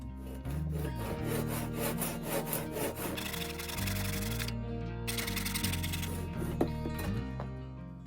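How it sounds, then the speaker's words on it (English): Handsaw cutting a long wooden branch into smaller pieces for a shrimp aquarium scape: loud, steady back-and-forth rasping strokes, close and continuous, with a short pause partway through. "I'm going to take some measurements and cut it down into lots of smaller branches"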